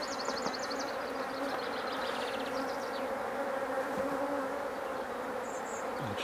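Steady droning buzz of many honey bees close by during a hive inspection as the queen excluder is lifted off the brood box, continuous throughout with a busy insect hum and no talking.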